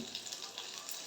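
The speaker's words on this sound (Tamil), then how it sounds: "சின்ன வெங்காயம் அதே போட்டு நல்லா ஃப்ரை பண்ணிக்கலாம்" Shallots and masala sizzle steadily in a pan while being fried, a dense, continuous frying hiss with slight stirring variations, close and even.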